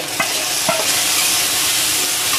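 Onion and spice mix frying lightly in a pan in a hill village kitchen, a loud steady sizzle with a few scraping stirs near the start, no voices.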